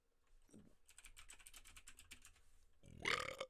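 A burp erupts at the end, loud and close, after a stretch of quiet, rapid clicking like keyboard typing and a short low grunt near the start.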